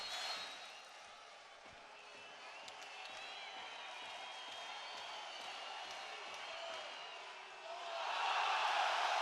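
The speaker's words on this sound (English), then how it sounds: "The crowd roar." A packed volleyball arena crowd at a European championship match between Serbia and Slovenia, a sustained distant roar of many voices with scattered thumps, swelling louder toward the end.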